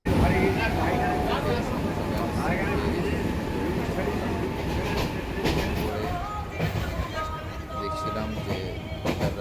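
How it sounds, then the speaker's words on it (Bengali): A Barasat local commuter train runs steadily with a constant loud rumble and rhythmic wheel clatter over the rails, with people talking nearby in the carriage. "চলো স্টেশন ট্রেনে উঠি। আর এই টাইমে কিন্তু ট্রেনগুলো ফাঁকাই থাকে"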